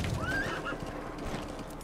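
A horse in Metal Gear Solid V: The Phantom Pain gives a clear rising whinny up close, followed by soft clip-clop hoofbeats continuing underneath.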